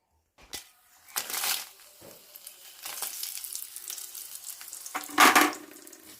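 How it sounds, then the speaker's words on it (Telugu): Dried red chillies fry in about two spoons of oil in a kadai, giving close bursts of sizzling and crackling that surge near the start and again near the end. "అదే కళాయిలో ఆయిల్ వేస్తున్నానండి ఒక రెండు స్పూన్లు ఆయిల్ మిరపకాయలు వేపుకోవడానికి"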